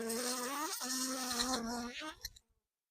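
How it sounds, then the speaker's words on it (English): A bee buzzing right against a microphone during a beehive inspection, a loud close whine that wavers in pitch, dips twice and cuts off abruptly near the end. "For some reason the bee was attacking the microphone."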